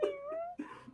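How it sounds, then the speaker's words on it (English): A small kitten gives a distressed mew, a single drawn-out, wavering meow close by, followed by a shorter second cry. "There may even possibly be, if only for the fan service, a small mew of distress"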